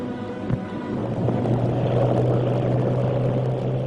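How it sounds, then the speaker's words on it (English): Propeller aeroplanes flying in formation over a 1949 Afghan military parade, a steady loud droning roar of engines that swells slightly and holds throughout, with a low persistent hum. "Groups of aeroplanes dived in formation, showering congratulatory leaflets all around."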